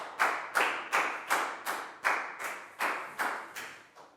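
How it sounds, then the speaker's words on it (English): A classroom group claps in a steady rhythm, about eleven evenly spaced claps in a row, close and moderately loud, with no talking over it. "Big round of applause for Prel, please, guys."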